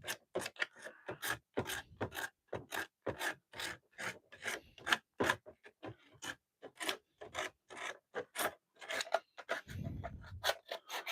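Someone roughens a slippery epoxy sculpt surface on a scarecrow mask with rapid, rhythmic rasping strokes. The scratches come close up in quick, even bursts with brief pauses between them.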